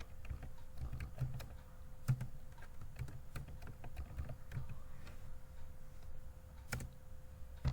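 Quiet typing on a computer keyboard while entering text into an Excel spreadsheet, with light, irregular key clicks and taps over a faint steady hum.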